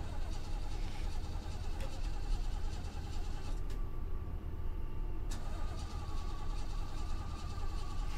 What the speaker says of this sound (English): An old car.